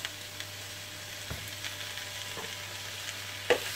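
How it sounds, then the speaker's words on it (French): Cream stirred into cooked cabbage in a hot pan, with a soft continuous sizzle and a few faint scraping stirs, the last one slightly louder. "on mélange avec la crème"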